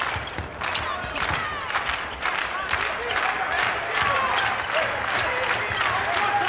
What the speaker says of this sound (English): Crowd doing some clapping now.